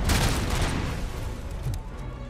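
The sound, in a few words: explosion in the video game Robocop Rogue City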